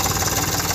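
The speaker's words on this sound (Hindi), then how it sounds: "देख सकते हो गाइस, ट्रैक्टर चल रहा है।" An Eicher 485 tractor engine running in a farm field, a close, steady mechanical drone with a throbbing pulse, heard alone in a brief burst.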